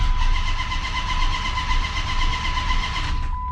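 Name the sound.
Procharged 426 Hemi engine being cranked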